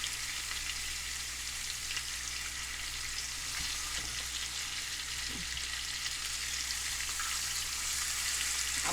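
Chicken sizzles and fries steadily in a pan after being flipped, a constant close crackle with occasional faint scrapes and pops.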